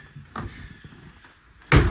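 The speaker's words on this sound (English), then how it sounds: "I'm gonna shut this door maybe." A kitchen door on an overland vehicle build is swung shut, ending in one sharp, close slam after a couple of soft knocks.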